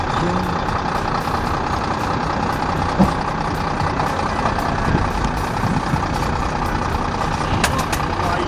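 A heavy truck engine idles with a steady, loud rumble that runs throughout, joined by faint background clatter and a brief high tone near the end.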